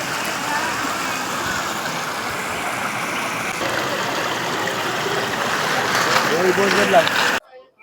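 A river rushes through Polo Forest in Gujarat: a loud, close, steady roar of flowing water lasting about seven seconds, then cutting off abruptly.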